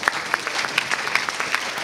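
Audience at a conference session applauding a guest's arrival, a short burst of brisk clapping with a few sharper claps standing out, faint crowd murmur underneath.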